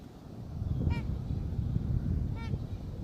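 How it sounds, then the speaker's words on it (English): A wild goose honks twice out over Lake Elmo, Minnesota, each call clear but somewhat distant, carried over a steady rush of cold wind buffeting the microphone from a fishing kayak. "Hear that goose?"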